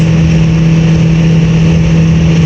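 A car engine with a suspected fuel injector fault revs hard at high rpm while climbing a slope, a loud steady drone with a strong constant hum and no talk over it.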